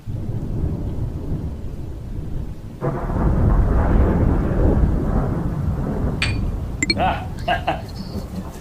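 A deep, heavy roll of thunder from an approaching storm rumbles loudly and continuously, with a few faint clinks near the end.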